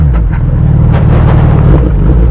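A 2020 Suzuki Hayabusa GSX1300R motorcycle idles with a loud, steady low engine rumble, blipping its throttle once in a brief rev, with some wind noise at the microphone.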